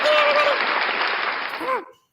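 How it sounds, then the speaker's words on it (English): A group claps in applause for about two seconds during a casual morning show, the clapping dense and fairly loud, with a voice speaking briefly over it near the end before it cuts off. "Can I get a clap?"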